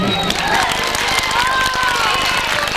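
Audience clapping and cheering at a Bosnian sijelo folk evening, a continuous loud wash of applause mixed with crowd noise and faint musical tones.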